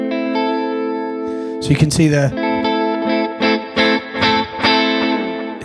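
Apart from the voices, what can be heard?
Tele-style electric guitar, neck pickup, delay and reverb, HX Stomp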